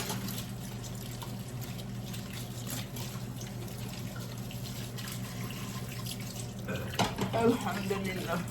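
Tap water runs steadily into a sink during washing up at home, a continuous close stream that carries on throughout, with a few clinks and splashes rising near the end.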